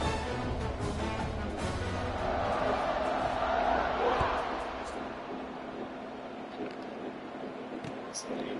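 Crowd buzzing in a stadium during College Football 26, a steady broad murmur of many voices that swells midway then settles lower, with a commentator's voice over it.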